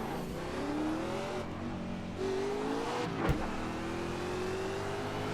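A race car engine hums steadily in a racing video game, a continuous mid-level drone with gentle pitch shifts and one brief sharp click, heard alone without talk.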